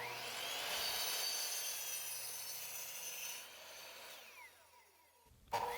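A power saw rips through wooden boards for overhang pieces with a 15-degree bevel, a loud continuous high whine that holds steady and then winds down before a brief final burst near the end.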